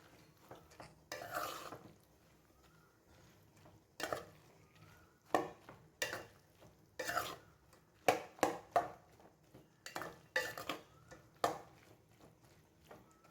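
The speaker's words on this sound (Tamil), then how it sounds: "மொச்சப்பயிறு சேர்த்தப்ப நல்லா கிளறி கொடுத்துக்கலாங்க." Boiled mochai beans get stirred into a village-style karuvadu kuzhambu curry in a pan, with a quiet run of irregular spoon scrapes and clinks against the metal, separated by short pauses.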